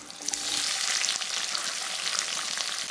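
Chopped onions hitting hot oil with curry leaves and green chillies, a dense, bright sizzle that stays loud and steady throughout, with faint stirring.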